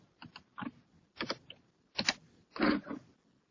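Typing on a computer keyboard while entering words in Word, heard as several short bursts of clattering keystrokes with brief pauses between them, close and fairly quiet, with no talking.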